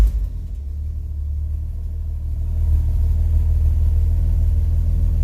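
A 1963 Chevrolet C10 truck engine on a cool day rumbles low and steady close by, swelling slightly in the second half with no voices.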